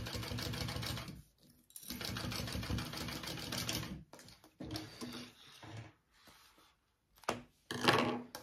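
A sewing machine runs in steady bursts while basting fabric pieces for a crossbody bag, stopping and restarting several times with short pauses and a few clicks between runs.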